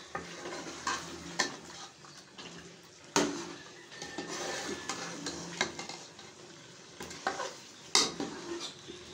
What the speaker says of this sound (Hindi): ये डाल रहे हैं हम इसमें चिकन जो 1 किलो है